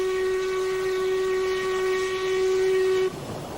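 A narrow gauge steam locomotive on the Ffestiniog Railway in Wales sounds one long, loud, steady whistle blast for about three seconds, close by, then cuts off abruptly, leaving rumbling background noise.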